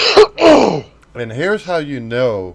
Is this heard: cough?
yes